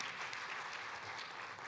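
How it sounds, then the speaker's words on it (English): An audience applauding at a university College of Arts and Humanities alumni event, a brief burst of dense, even clapping at a distance, fairly faint and steady without voices. "Yes, we should applaud ourselves"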